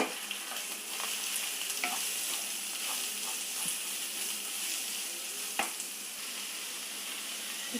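Beetroot stir-fries with green chillies in a pan, a steady close sizzle broken by a few sharp clicks of a spoon against the metal, with no speech.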